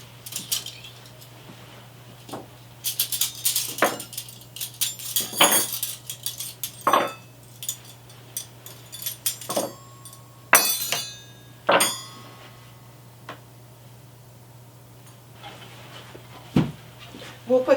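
Silverware and glasses set down on a Christmas dinner table, a series of sharp clinks and taps scattered irregularly, some ringing briefly, over a quiet steady hum.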